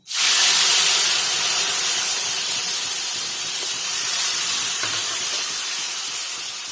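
Mixed spices hit hot oil in a pan for an Assamese fish curry with bhedailota leaves, producing a loud, sudden hiss that holds as a steady sizzle and slowly eases, close up and uninterrupted.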